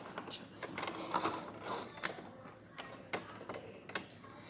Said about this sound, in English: you're going to tack it here on the machine